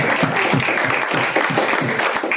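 An audience breaks into loud, dense applause during a comedy show, sustained clapping from many hands filling the whole stretch without pause.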